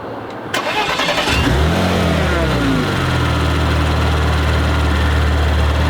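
A 2017 Porsche Macan GTS engine cranks and fires up, a brief starter whir followed by a loud rising roar that settles into a steady deep idle, close by.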